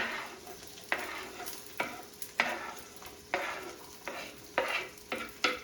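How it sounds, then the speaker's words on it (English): One medium diced onion sautés in butter in a pan with a soft, steady sizzle, broken about every second by sharp scrapes and clacks of stirring, quiet and close with no talking. "All right, got my onions sauteing."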